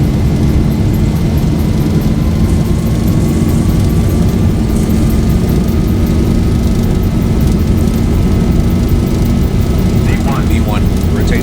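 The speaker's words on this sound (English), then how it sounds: "Wow, that was a long takeoff." In the X-Plane 11 flight simulator, an airliner on its takeoff roll gives a loud, steady jet engine roar. The roar holds constant throughout, with a faint rising whine and no talk over it.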